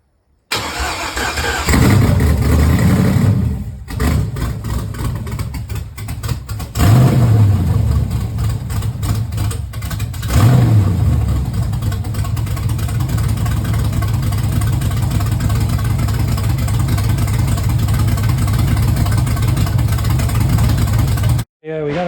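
A Gen 4 LS V8 engine, laid in a car on a temporary wiring harness with a Turbo 350 transmission, cranks over and fires, then runs loud and steady with a few revs near the start before settling into a continuous idle.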